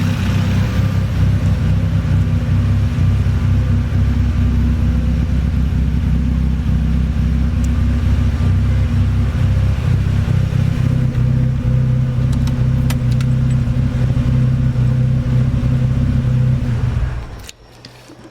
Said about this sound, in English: sounds like the exhaust slightly louder than before